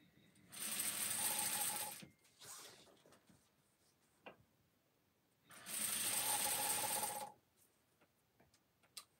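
A sewing machine stitches fabric for ruffle anklets in two steady bursts of about a second and a half each. A quiet pause with faint mechanical clicks separates the bursts.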